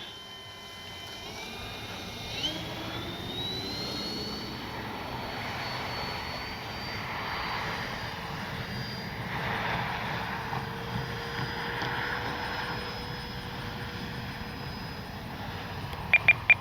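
A Draco RC airplane flying after refitting with a new motor, its electric motor whine sweeping up and down in pitch as it circles at a moderate distance, steady throughout, with a few sharp clicks at the end.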